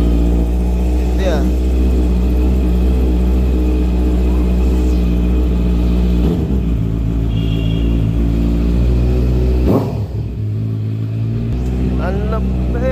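A Toyota Hilux engine idles steadily after starting during carbon-cleaning maintenance, a loud, constant low rumble with an even hum, while people talk nearby over it.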